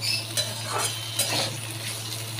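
Potato curry with three slit green chillies and a little chopped tomato is stirred in a pan: repeated close scraping strokes and occasional utensil clinks over a constant sizzle, no talking.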